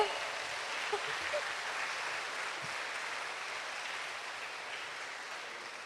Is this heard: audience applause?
yes